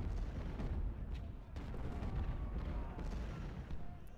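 Continuous rumbling battle noise in the video game Ultimate General: Civil War at Marye's Heights, with repeated distant booms of cannon fire, dense and steady throughout, with a few sharper thuds standing out.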